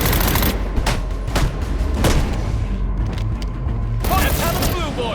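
Police open fire in Batman: Arkham Origins, a loud, dense volley of gunshots with booming impacts over a constant roar of game noise. A voice shouts during the burst.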